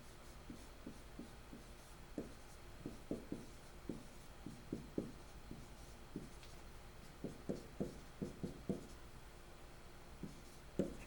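Marker strokes on a board during a math factoring lesson sound as short, soft squeaks and taps in irregular clusters against a steady background hiss, with no speech.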